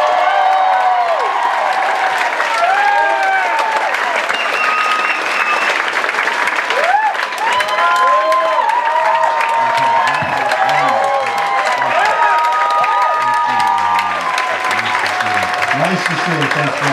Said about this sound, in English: Big round of applause for the very funny Tim Allen, everybody.